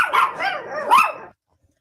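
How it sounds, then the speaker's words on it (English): A dog gives a loud, close bark that stretches into a wavering, yowling howl for just over a second, then stops into silence. "Bad dog."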